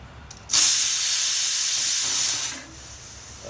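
A loud, sharp hiss of steam bursts out suddenly, holds steadily for about two seconds, then cuts off as a pressure cooker cooking toor dal releases its whistle.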